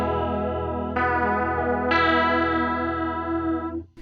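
Sustained electric guitar chords through a chorus pedal set to a high rate, with a fast, pronounced pitch wobble pulsing steadily through each chord. The chords shift twice, loud and close, before fading at the end.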